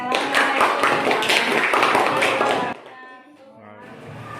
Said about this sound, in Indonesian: tepuk tangan untuk Alif.